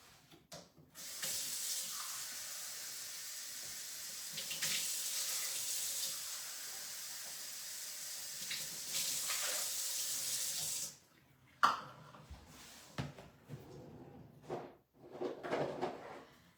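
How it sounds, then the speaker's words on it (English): Tap water runs steadily into a pot for cooking rice in a home kitchen, a long continuous hiss lasting about ten seconds, followed by a few clinks and a short second burst of running water. "I'm going to put 2 cups of water in here, a bit of salt, and then we'll get this cooking as well"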